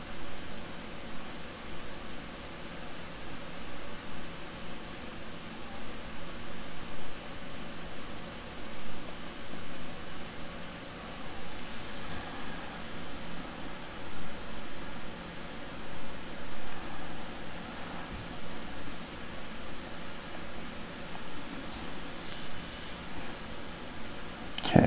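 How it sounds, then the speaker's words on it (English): A pencil moves lightly across paper in a long, faint, soft scratching and rubbing, with gentle rhythmic strokes that continue throughout and no voice. "So I'm drawing super light."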